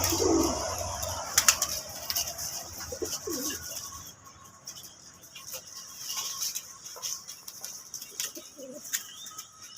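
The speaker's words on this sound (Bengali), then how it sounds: "খাওয়ার জন্য সব কবুতরগুলো একেবারে অস্থির হয়ে আছে" A few soft, scattered coos from Giribaj pigeons sound at a moderate distance, mixed with occasional wing flutters and light background bustle.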